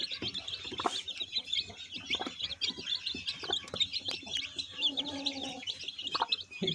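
Japanese chickens and their chicks cluck and cheep in a busy, continuous stream, with thin high peeping over lower clucks, fairly close and moderately loud throughout.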